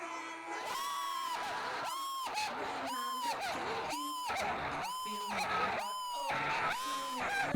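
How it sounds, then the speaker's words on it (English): A person screams at full volume at a last-second game-winning shot in a football game, letting out repeated long, strained yells in rapid succession, close and raw, with crowd cheering underneath. "Look at me scream my lungs out at a game winner"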